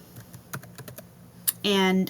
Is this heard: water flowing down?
no